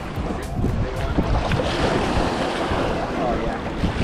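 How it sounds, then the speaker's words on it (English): Choppy wake water from passing boats slaps and splashes against a boat hull off Sorrento, Italy, under steady wind noise, a continuous rough wash close to the microphone. "We're getting the wakes from the boats that are out today."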